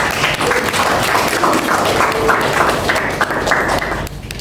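Audience applause for teacher debate teams at a university session: a sustained, loud patter of many hands clapping in a room, steady for several seconds before thinning out at the end.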